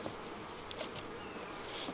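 Honey bees buzz around a beehive in a fall bee yard, a steady, soft insect drone with a few individual bees passing close by, continuous for about two seconds with no talk.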